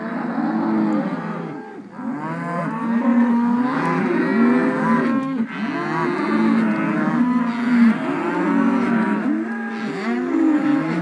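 Steer and heifer calves, a mixed group of young August–September-drop cattle in fresh condition, mooing and bawling continuously and overlapping one another, several animals calling at once, loud and close throughout with no talk.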